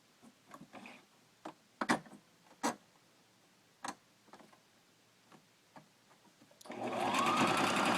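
A sewing machine stitches a straight seam on mittens, giving scattered close clicks and taps before breaking into a loud, steady whirring run near the end.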